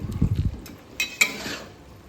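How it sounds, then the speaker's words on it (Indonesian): Water spinach and fried tempeh stirred in a pan, with a few soft scraping and clinking strokes of a utensil against the pan early on and a faint sizzle, close and fairly quiet. "kita aduk"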